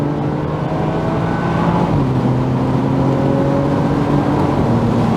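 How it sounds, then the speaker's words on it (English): A BMW Z4 sDrive roadster engine pulls hard under acceleration, its steady loud drone rising in pitch and then dropping sharply at a gear change before climbing again, with no talking over it. "It's literally shifting so hard that it's actually hitting traction control between gear changes."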